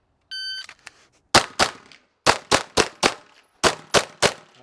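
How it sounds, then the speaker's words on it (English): Timer beep followed by rapid pistol gunshots in quick strings of two to four during a shooting drill on a range, sharp and loud with short pauses between volleys. "We'll shoot it again."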